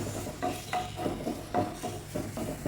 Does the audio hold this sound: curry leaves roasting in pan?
yes